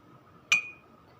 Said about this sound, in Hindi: ये मैं दूध में कॉर्नफ्लोर मिक्स कर रही हूँ।